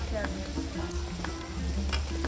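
Bombil (Bombay duck) with tomato and a chili sizzles and crackles hard in a pan over a wood-fired chulha, with spoon stirring and scraping clinks close by.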